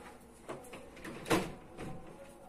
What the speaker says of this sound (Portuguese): deixa eu só encostar aqui essa porta